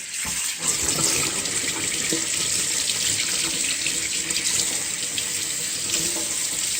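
Tap water runs steadily into a sink while raw pork ribs are rinsed under it, a continuous close splashing hiss with no talking.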